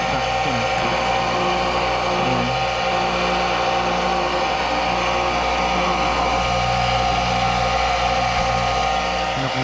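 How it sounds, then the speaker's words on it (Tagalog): A high pressure washer motor about three years old runs steadily and loudly, with a continuous mechanical hum and whine throughout. The pump fails to draw water while the motor keeps going. "sinubukan natin yung high pressure washer natin"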